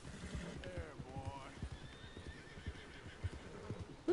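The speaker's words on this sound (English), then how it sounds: "Whose horses are these?" Horses neigh and whinny in an open-world video game, hooves clip-clopping in a steady trot beneath the calls, with a voice talking over the action.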